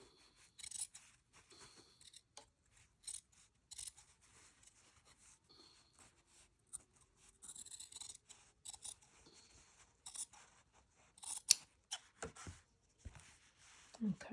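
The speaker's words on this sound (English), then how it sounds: "Go back and trim my seam allowance a little bit more." Scissors trim a fabric seam allowance in short, crisp snips scattered throughout, close and fairly quiet, with a voice talking at times in between.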